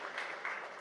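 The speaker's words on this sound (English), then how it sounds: "A big round of applause for that" Brief burst of audience applause at a News18 Rising India conference session, a soft, dense patter of clapping heard from a distance at low level.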